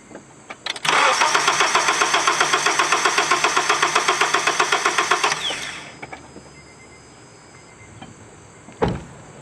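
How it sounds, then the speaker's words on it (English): A 2004 Acura engine with a misfire cranks over on the starter for a compression test, a loud rapid rhythmic chugging that runs about five seconds and then stops, followed by quiet and a short click. "I'm going to go in and crank on the engine, and we're going to see if we have compression"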